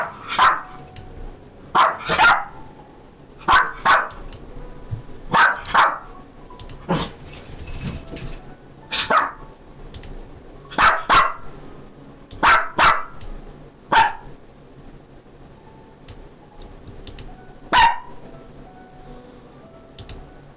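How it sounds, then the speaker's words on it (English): A dog barks repeatedly in sharp, separate bursts spread across the whole stretch, some single and some doubled, fairly close and loud over a quiet indoor background. "this dog won't shut up"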